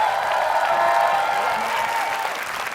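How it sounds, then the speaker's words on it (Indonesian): Studio audience applause at an Indonesian television show, a dense, steady clatter of many hands that holds close and loud for the whole stretch and eases off slightly at the end, with no voices over it. "tepuk tangan untuk Dea"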